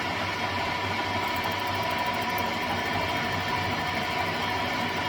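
A lathe runs steadily while facing a part for a handmade rigid Harley Evo chopper, a constant machine drone with a faint high whine partway through, close and alone with no talk.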